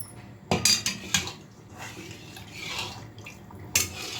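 Water sloshed around a kadhai (wok) while it is washed out to loosen leftover masala, with sharp metallic clinks and scrapes of the pan near the start and end and a softer watery wash in between, no talk.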